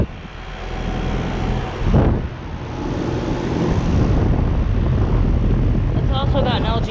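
A 2018 Ameristar 2.5 ton heat pump with an LG scroll compressor runs in cool mode outdoors, giving a steady broadband whoosh and hum close by, with a brief louder gust of noise near the middle.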